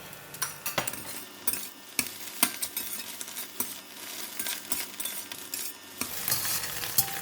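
Egg frying in a pan with garlic, sizzling steadily while a utensil stirs and scrapes, with occasional sharp clinks against the pan, close by and without speech.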